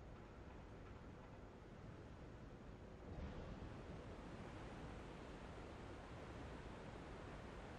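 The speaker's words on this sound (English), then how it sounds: "This room is now filling with water." Water rushing in to flood a room in the video game Revelations, a steady, dense roar of churning water that swells slightly partway through and continues alone without pause.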